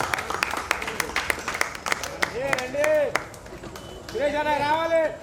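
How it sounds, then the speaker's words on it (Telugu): Crowd clapping at an outdoor Dr B R Ambedkar birthday celebration as a garland is unveiled, a steady patter of many hands mixed with cheering voices and loud talk over the top. "క్లాప్స్ కొట్టాలి అందరూ"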